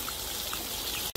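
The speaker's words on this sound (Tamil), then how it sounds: "தண்ணி நல்லா பக்காவாக வருது." Water gushes in a steady, close rush from the outlet pipe of an AC motor pump, continuous and fairly loud, then breaks off briefly right at the end.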